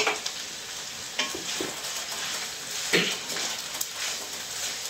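Julienned onions frying in butter and being stirred, with a soft steady sizzle and a few sharp scraping knocks from the utensil against the pan.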